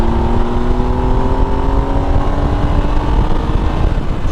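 A 2012 Triumph Tiger Explorer 1200 motorcycle pulls hard in fourth gear, its engine drone climbing smoothly in pitch under loud, constant wind rush that dominates throughout.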